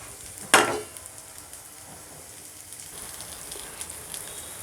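Veg frankie patties fry in a pan, a loud metallic clack at the start giving way to a steady, even sizzle that carries on alone close by.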